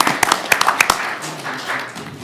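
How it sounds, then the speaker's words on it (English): A few sharp, close claps open a short round of applause at a county board meeting, then settle into a softer wash of scattered clapping from the room. "just join me in a round of applause for this team"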